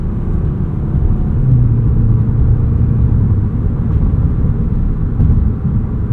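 Deep, steady engine rumble from a 2025 Audi S3 under acceleration on a bumpy road, heard as a continuous loud drone with a faint turbo whoosh, no talking.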